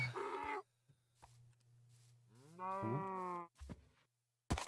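A cow in the Minecraft video game lets out a loud, drawn-out moo in the middle, with short blocky game sound effects before and after and no talking.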